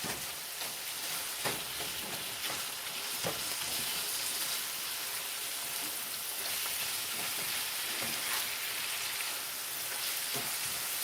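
Thinly sliced Steak-umm steak fries in a pan with a faint, steady, rain-like sizzle throughout. A few soft taps of tossing or stirring break through now and then, and no one speaks.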